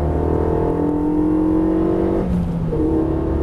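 A Renault Mégane RS engine pulls hard under full throttle on a sporty drive, its pitch climbing steadily, with a brief gear change before it keeps accelerating.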